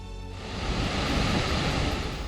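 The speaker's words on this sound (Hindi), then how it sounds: "पानी के तेज बहाव से आप अंदाजा लगा सकते हैं कि हालात कितने भयावह हैं" Torrent of floodwater surging through villages after the Padariya dam burst during torrential rain in Chhatarpur, Madhya Pradesh; a steady, loud broadband roar of rushing water, continuous throughout with no voices.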